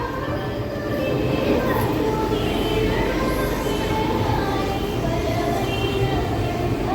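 Cocanada Express running on toward Warangal, a dense, steady roar of wheels and carriage rumble heard from on board, even and unbroken with no distinct clacks.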